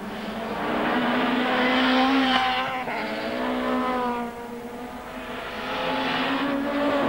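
Touring race cars, including a Honda Accord, an Audi A4 and a Peugeot 406, racing at the Zolder circuit in the 1996 Belgian Procar series, with engines roaring loudly and continuously as they pass close by, rising and falling in pitch.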